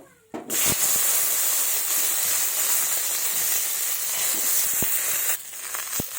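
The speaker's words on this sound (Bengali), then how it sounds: "এই তেলে ঢেঁড়সগুলোকে ভেজে নেব" Okra sizzles loudly in hot frying oil in a pan where fish was just fried, a steady broad hiss broken by a few sharp pops and clicks, with the spatter cutting off briefly near the end.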